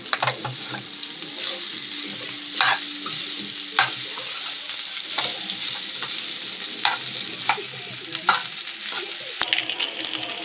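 Rice being stirred and mixed in a hot pan with a dry frying sizzle, a spoon scraping and clinking against the pan in irregular strokes, close and steady, with no talking.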